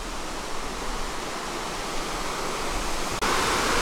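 A waterfall near Shiobara Onsen, Nasushiobara, Japan, pours in a continuous broad hiss of rushing water, steady and close, growing slightly brighter near the end.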